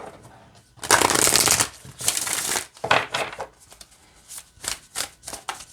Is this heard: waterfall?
no